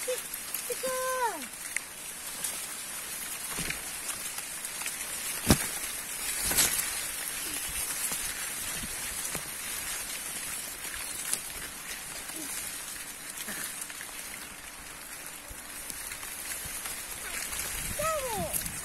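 Steady rain patters on a corn plantation for almost twenty seconds as a constant hiss with scattered louder drops and taps. Children's and adults' voices break in briefly near the start and the end.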